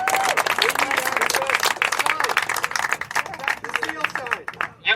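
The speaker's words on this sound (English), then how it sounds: "Huge round of applause for the people who don't get named." Crowd applause at a Stop The Steal rally in Lauderhill, Florida: dense, continuous clapping from a large audience for about five seconds, with some cheering and crowd babble mixed in, fading slightly at the end.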